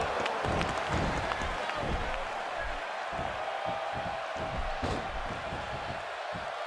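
A video game basketball arena crowd in NBA 2K16 roars in a steady, dense wash of cheering and applause that stays loud throughout, with faint thumps underneath.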